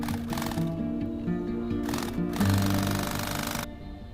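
Sewing machine top-stitching the lining of a semi-circular sling pouch, a rapid mechanical stitching rattle in close bursts with brief pauses between runs, loud and alone without talk.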